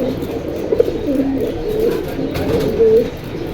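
Pigeons at a market stall in Jinjira Bazar coo in loud, close, warbling calls that roll on almost continuously over a soft background hum.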